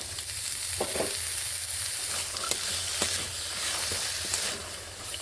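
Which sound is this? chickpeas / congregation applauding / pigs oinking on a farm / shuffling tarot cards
chickpeas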